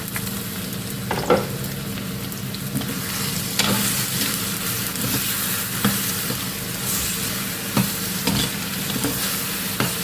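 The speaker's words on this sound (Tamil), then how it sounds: "தேங்காய் நல்லா வதக்கணும் கிளறி விடணும்" Grated coconut and garlic sautéing in a pan for a ridge gourd egg gravy: a continuous sizzle with occasional scrapes and knocks from a stirring spoon.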